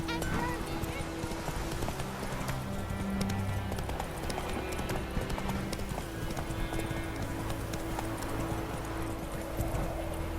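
Horse hooves clip-clop in a quick galloping rhythm in The Witcher 3: Wild Hunt, steady and close throughout, with a short whinny and game music and ambience underneath.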